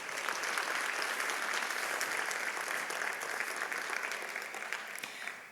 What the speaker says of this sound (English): Let's give him one round of applause.